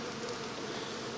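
Honeybees buzzing steadily at an open hive during a failed queen replacement, a dense continuous drone from many bees close by, with no voices.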